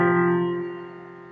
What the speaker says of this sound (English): Interval of a fourth